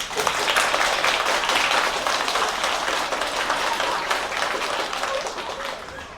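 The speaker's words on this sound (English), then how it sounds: "A round of applause, everybody." Sustained applause from an audience, many hands clapping densely and steadily, then gradually tapering off near the end.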